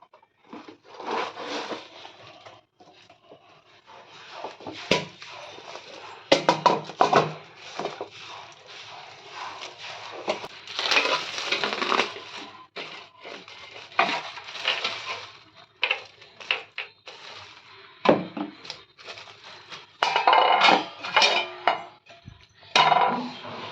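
A new non-stick paniyaram pan is unboxed and handled: crinkling packaging, rustling, and light metallic knocks and clatters come in irregular bursts nearby.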